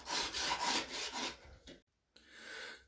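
Silicone sealant tears and scrapes away as a shower door is prised off the wall with screwdrivers, a close rasping rub for over a second that stops briefly and then resumes more quietly.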